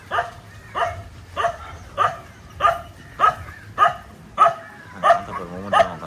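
A dog barks repeatedly at a steady pace, about ten sharp barks close by, with nothing else in between.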